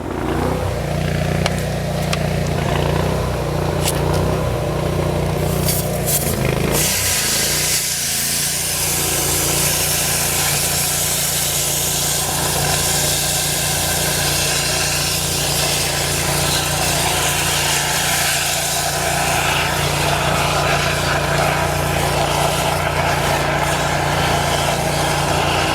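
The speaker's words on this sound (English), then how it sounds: "So you can hear it start cutting through the ice right there." A hot-water high-pressure jetter works through ice inside a frozen 4-inch pipe, giving a loud, steady rushing roar with a low machine hum beneath and a rougher grinding texture that shifts partway through, with no talk.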